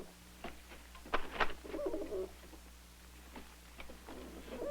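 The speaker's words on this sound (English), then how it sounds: "experimenting with homing pigeons to find out" Homing pigeons cooing in an isolated indoor room, soft repeated coos scattered through a low steady background hum, moderately faint and without talk.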